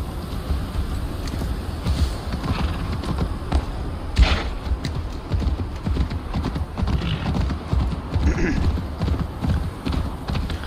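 Rapid, continuous clip-clop of hooves from a galloping horse in Assassin's Creed Valhalla, loud and close, with occasional thuds and a brief whinny mixed in.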